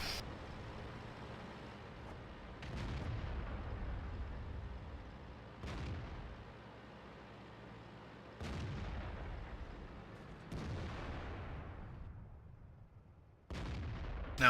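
Tank cannon shots in World of Tanks, several heavy booming blasts spaced a few seconds apart, each with a long rumbling decay, loud against quiet engine ambience on the El Halluf map.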